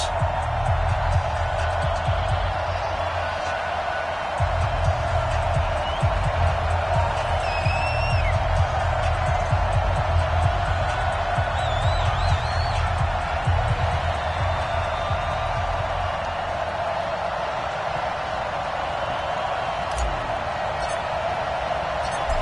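Stadium crowd in an EA Sports NFL football video game, Cleveland Browns versus Baltimore Ravens, a steady, loud roar of cheering that continues without a break, with a few faint whoops rising above it.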